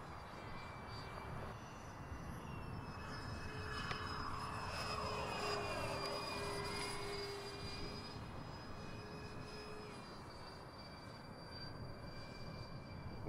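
An Xfly J65 twin electric ducted fan model jet makes a high-speed pass, a distant whine that rises and sweeps in pitch as it passes, then fades, with no voices.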